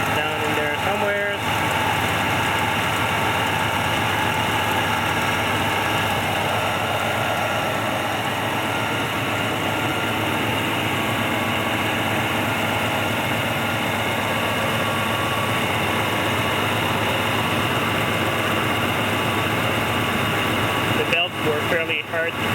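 A 1967 Pontiac ambulance engine with an exhaust leak idles in a steady, close, unbroken drone, with a faint ticking texture through the hum.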